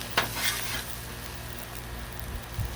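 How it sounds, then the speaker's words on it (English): Paella rice sizzles and pops on a Blackstone griddle, with a few sharp scraping stirs at the start over a constant frying hiss, close and without talk. "Have you noticed rice tends to pop like popcorn? Maybe it's just my griddle."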